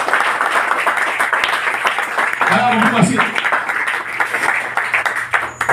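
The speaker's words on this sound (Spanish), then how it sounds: "Un aplauso al Señor" Congregation applause at a church service in Pacora, Panama, a steady wash of clapping running under a voice speaking throughout, swelling slightly near the middle.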